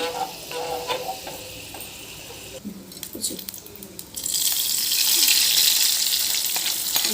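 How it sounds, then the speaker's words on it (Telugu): Lentils dropped into hot oil in a pan for a spinach dal break into a loud, steady sizzle partway through, after quieter frying and a few scraping stirs. "ఇప్పుడు పప్పులు వేసుకుందామండి"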